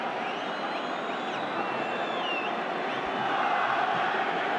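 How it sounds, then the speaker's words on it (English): Steady roar of a large stadium crowd, around 70,000 fans at a Real Madrid vs Barcelona Clásico Copa del Rey match played far from Spain, a dense continuous wash of voices with faint whistles rising above it. "it's a pretty good crowd, as you'd expect for a meeting like this"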